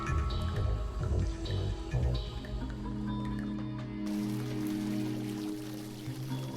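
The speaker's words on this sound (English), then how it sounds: "The water is running again." Steady running water in the Darkside Detective video game, a continuous pouring and trickling flow with light dripping, moderately loud and alone without voices.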